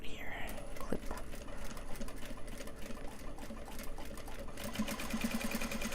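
Sewing machine stitching fabric, a close, rapid mechanical whirring chatter running steadily throughout while a person talks over it.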